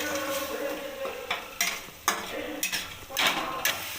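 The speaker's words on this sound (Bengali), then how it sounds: "এবার আমি মশলাটাকে ভালোভাবে কষিয়ে নেব।" Spice masala with turmeric, black pepper and chicken masala being stirred and sautéed in a pan, with a soft continuous sizzle broken by several sharp scrapes and clinks of a spoon against metal.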